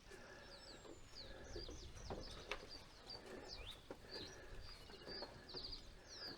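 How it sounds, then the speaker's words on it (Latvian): Several birds chirp and call outdoors by the sea, with short rising tweets repeating over steady wind and surf noise, moderately faint and with no talking. "Kāda tik putnu te nav?"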